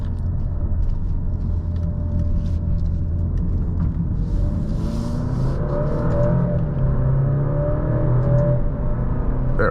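A 2023 Alfa Romeo Giulia Veloce engine hums steadily and then revs up as the car accelerates, with a rising whine and a low rumble throughout.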